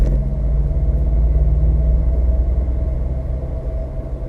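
A VW Move Up climbing a hill under acceleration gives a loud, steady low engine drone and road rumble from inside the cabin, easing slightly toward the end.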